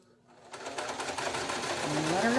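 A Necchi 537L sewing machine starts up and stitches steadily, its motor whirring louder and rising in pitch, a continuous mechanical hum close by with no talk over it.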